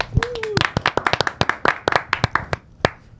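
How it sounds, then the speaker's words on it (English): Small group at an interview with Tokischa claps for her, a couple dozen distinct sharp hand claps at close range that thin out toward the end, with a voice briefly heard at the start. "We'll give here. a round of applause for Tokischa"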